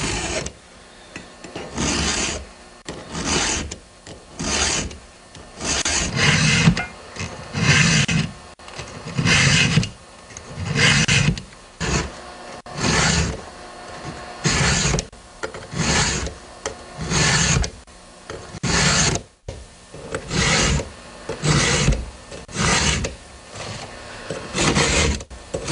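Hand file sharpening chainsaw chain teeth, a rhythmic rasping scrape of metal on metal in repeated strokes roughly a second each, close and steady with short pauses between groups of strokes.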